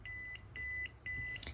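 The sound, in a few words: electronic buzzer beeping rapidly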